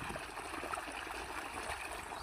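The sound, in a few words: irrigation water flowing along sugarcane furrows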